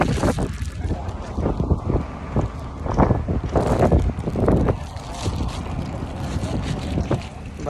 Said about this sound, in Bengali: বাতাসও বইতেছে।